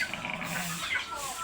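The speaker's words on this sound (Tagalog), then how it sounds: "Meron din kami puti-puting aso." A white dog on a farm makes a brief low growl or whimper, close by, over steady background noise.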